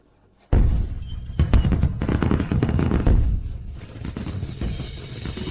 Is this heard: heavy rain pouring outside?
no